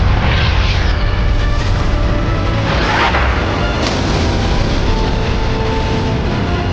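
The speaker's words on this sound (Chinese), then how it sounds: "随后艇上大炮瞄准轰炸机，艇长一声令下，2枚炮弹快速飞了出去" A submarine's deck gun firing two shells in a war film sound effect: loud booming blasts over a dense, roaring noise bed that continues without a break.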